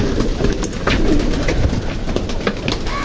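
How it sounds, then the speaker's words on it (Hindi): A flock of pigeons at a rabbit farm coos continuously in a dense, close chorus, with soft overlapping calls and fluttering noise filling the whole stretch. "तो ये एक एक पोर्शन में कितने कबूतर है?"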